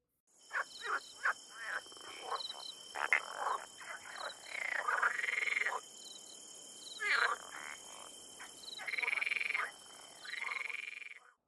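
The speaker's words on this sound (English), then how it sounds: "Time to hear the ribbit noises." Frogs croak in a chorus of ribbit calls: short bursts of varying length repeat irregularly over a high, steady insect-like trill, all fairly soft and with no voices.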